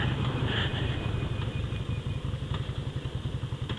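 A Yamaha Virago 250 motorcycle engine runs while being ridden, a close, rough low throb with a rapid pulsing beat that grows more pronounced toward the end, joined by a faint high whine, with no voices.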